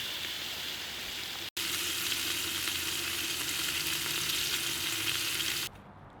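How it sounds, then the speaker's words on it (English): Pork steaks searing in a pan, a loud, dense, continuous sizzle close up, broken by a brief cut near the start and ending abruptly near the end. "Go ahead and sear up about 2 at a time. We're going to brown them up on both sides."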